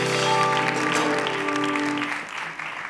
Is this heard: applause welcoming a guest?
yes